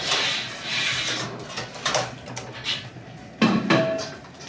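Metal pots, pans and utensils clank in a restaurant kitchen while a roux is made for a Caribbean mac and cheese, with scattered close knocks and scrapes and one sharp clatter near the end.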